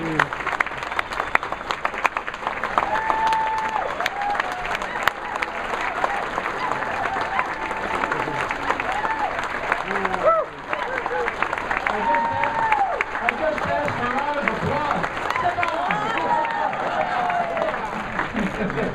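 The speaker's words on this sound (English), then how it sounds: "Let's give Father Peter a round of applause." Applause at an anniversary dinner honoring Servite priest Father Peter Rookey for 70 years of ordination, a dense, steady round of clapping from the dining crowd lasting throughout, with voices mixed in underneath.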